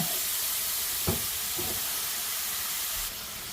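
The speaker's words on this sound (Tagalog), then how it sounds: "Lagay na natin yung turkey" Turkey meat dropped into a hot pan with garlic, pepper and spices for ginataan, a steady loud sizzle and hiss with a couple of brief clatters from stirring.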